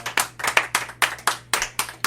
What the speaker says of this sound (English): Can y'all just clap it up for yourselves?